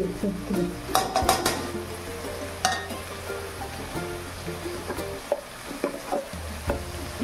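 Ground turmeric, cumin, coriander and chili powder go into a pan of oil for a jackfruit curry, with clinks of a metal spoon against the pan, scraping stirs and a soft sizzle underneath, close by.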